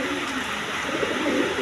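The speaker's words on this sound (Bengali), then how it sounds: "ড্রাগনের নর কবুতর" A male Dragon pigeon coos softly in a low, continuous murmur, close by and alone, with faint background noise.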